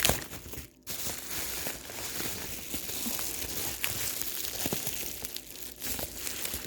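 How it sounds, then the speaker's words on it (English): A package wrapped in stretchy plastic tape being pulled open, continuous close crinkling and tearing of plastic with small crackles and clicks throughout, no talking. "this is like some saran tape, so it's also box cutters don't cut it very well"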